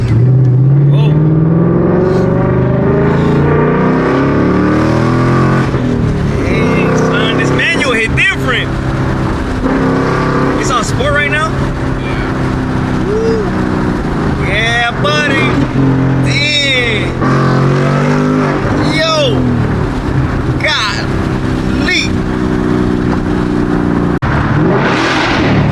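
Ford Mustang 5.0 V8 driven hard on public roads, its engine roaring loudly and continuously through repeated revving surges and gear changes, with voices talking over it throughout.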